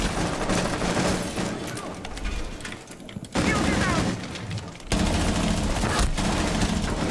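Rapid bursts of gunfire from the Rainbow Six Siege video game run almost without pause and stay loud and dense throughout, dropping back briefly near the middle, with people talking over the shooting.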